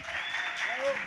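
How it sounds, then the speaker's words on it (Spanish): An audience at a documentary screening and presentation applauds warmly, a dense, steady wash of clapping that lasts the whole moment, with a voice faintly audible beneath it. "así que recibimos con un fuerte aplauso a Diana Rosenfeld."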